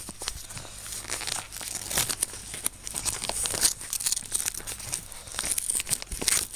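Plastic packaging of a Seben DKA2 scope cam mount being torn open and crumpled, close and busy with repeated crinkles and rips over several seconds.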